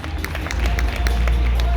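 An audience at a stage event gives a round of applause, dense clapping building in loudness over a couple of seconds with crowd noise and voices underneath.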